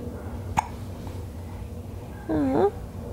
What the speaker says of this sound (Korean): 왜 딸꾹질해?